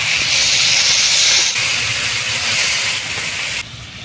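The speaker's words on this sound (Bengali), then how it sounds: "এবার দিয়ে দিচ্ছি জল, তেল ধোয়া জলটা প্রথমে দিয়ে দিচ্ছি" Water poured into a pan of hot frying crab curry cooked in oil gives a loud, steady steaming hiss that fills the whole stretch, dropping suddenly in level near the end.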